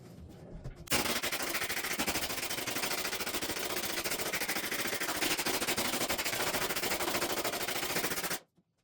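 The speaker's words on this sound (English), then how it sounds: "We'll glue that on and we'll keep it securely in place with some 1/2 inch crown staples." A pneumatic crown stapler drives half-inch crown staples into glued quarter-inch hardboard backer in a rapid, loud continuous burst of sharp firing clacks that stops abruptly after several seconds.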